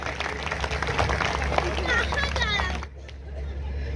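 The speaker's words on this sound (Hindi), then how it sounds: "एक बार थोड़ा सा आप अपने लिए ताली बजा लीजिए।" A large audience at an outdoor poetry recital in Raipur claps steadily and densely, then the applause cuts off sharply near the end, leaving quieter room noise.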